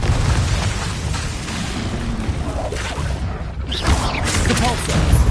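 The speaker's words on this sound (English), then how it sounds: "Confringo!" Confringo, an explosive spell in the Hogwarts Legacy video game, going off with booming blasts and crashes amid a dense, continuous barrage of other spell effects; voices call out under the din.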